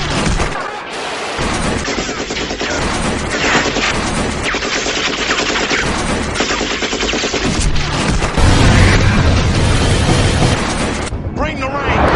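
News-clip footage of a famous singer being shot, with loud, dense bursts of gunfire and booming blasts running continuously under voices, harsh and distorted throughout.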